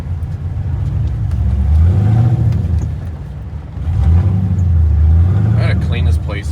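Duramax pickup truck diesel engine with a stock converter revving up twice in deep rumbling surges, close by, with someone talking over it.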